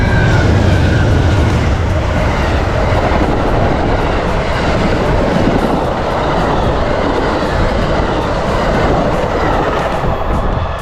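Passenger train hauled by two P42 Genesis locomotives rolling past in Florida, a loud, continuous roar with rattling clickety-clack of the cars throughout, close by.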